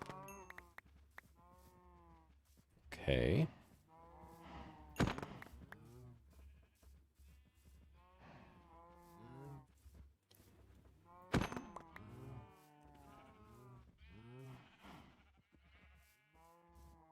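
Injured cows in Minecraft make repeated bleating, mooing calls at irregular intervals over a quiet background, several louder cries among softer ones, with a brief spoken word.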